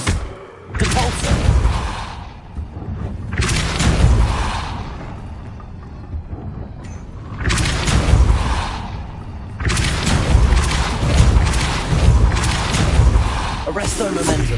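A Depulso force spell is cast several times in the video game Hogwarts Legacy, each cast landing as a loud, booming burst with thudding impacts, repeating every few seconds.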